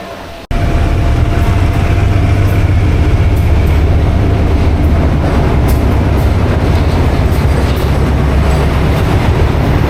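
A train in rural Thailand rumbles loudly and steadily close by, wheels clattering on the rails after a brief quieter moment at the start.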